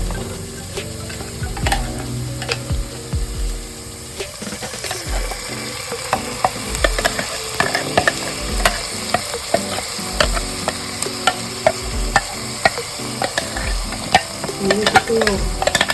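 Golden-brown onions and masala frying in a pan for Goan pork sorpatel, with continuous sizzling and repeated scraping, clattering stirs of a spoon against the pan, near and fairly loud, no voices.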